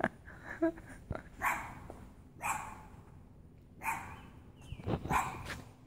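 A dog barks in short bursts of one to a few barks, repeated about four times with pauses between, fairly close and loud over quiet background, heard while someone prepares to pull out a transformer.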